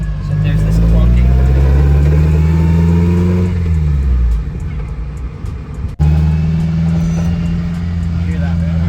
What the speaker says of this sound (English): So there's this clunking.